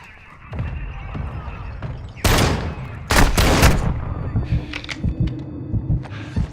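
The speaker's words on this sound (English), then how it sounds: "Copy that. Mortar strike inbound." A mortar strike and gunfire in a military video game, heard as loud booming blasts and bursts of rapid fire over a heavy low rumble.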